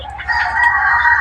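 A rooster crows in a forest, one sustained call close by and fairly loud, with faint clucking around it.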